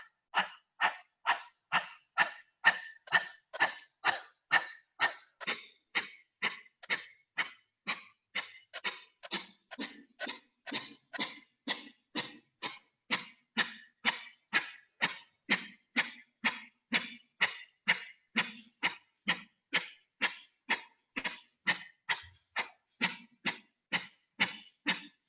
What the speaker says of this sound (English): We want to take 2 more rounds in Kalapati fire breath